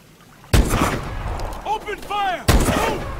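Gunfire in the video game Call of Duty: Advanced Warfare, two sharp loud bursts of shots with rumbling tails, and game voices shouting between them.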